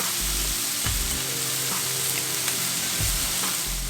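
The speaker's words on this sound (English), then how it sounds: "add a handful of onion slices, a handful of Chinese cabbage, handful of bean sprouts" Onion slices, Chinese cabbage and bean sprouts hit hot lard in a pan for a Hokkaido noodle dish, a loud, steady sizzle and crackle with occasional scraping stirs, close and without talk.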